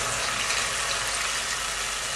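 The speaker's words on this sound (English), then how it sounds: "We add enough water just to cover the pork." Water being poured into a pot of pork coated in sherry caramel for Chinese red braised pork, a steady broadband rushing pour lasting throughout, close and fairly loud with no talk.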